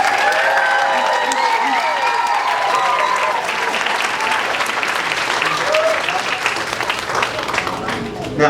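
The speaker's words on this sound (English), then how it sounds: "Let's give Miss Georgette, Miss Melissa's class a round of applause." Audience applause for a preschool VPK graduating class, steady dense clapping filling the room with voices and cheers mixed in, tapering slightly toward the end.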